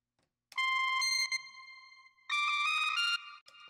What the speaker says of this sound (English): I purposely used the Beats algorithm, which I think sounds like garbage on anything else